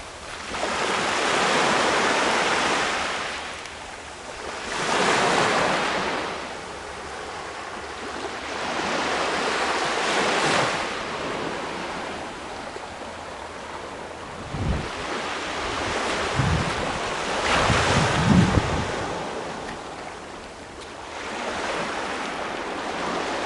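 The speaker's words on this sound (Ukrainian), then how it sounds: "Просто записую шум море." Sea waves surge and break on a shore in repeated slow swells, each wash rising and fading, with gusting wind buffeting the microphone and a few low thumps; no voices.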